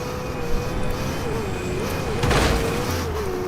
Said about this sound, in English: I hear a player this way though, in a car.